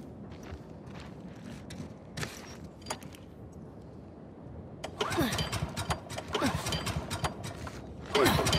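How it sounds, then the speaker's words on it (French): A generator starting up in The Last of Us Part II, with faint footsteps and clatter at first, then a louder mechanical engine churn kicking in and running, rising again near the end. "Hey, j'ai trouvé le générateur."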